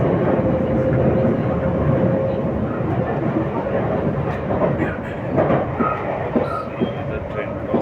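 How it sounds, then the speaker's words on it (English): A commuter train on a suburban line near Parc de Sceaux outside Paris rolls loudly and steadily on its rails, a continuous near rumble with faint clicks, with a voice talking over the noise. "The train crossing."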